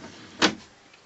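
A full-extension, five-sided kitchen drawer in a 2003 Tiffin Allegro Bus 36-foot diesel motor home slides shut once with a short, close, solid rolling thud, then quiet.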